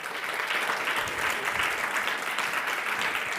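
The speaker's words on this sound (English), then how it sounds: "I would now ask you first for a round of applause for everyone" Steady applause from a crowd, continuous dense clapping at an even level throughout with no voices standing out.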